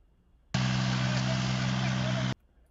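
A steady motor drone of a mower-type engine starts abruptly, holds loud and constant for about two seconds, then cuts off.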